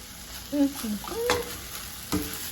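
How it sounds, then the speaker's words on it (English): Chicken is stirred in a pan with tomatoes, onions and garlic, giving a few short scraping strokes over a faint sizzle. A last scrape comes after a pause near the end. "Now we're just going to mix it all together with our tomatoes and onions and garlic."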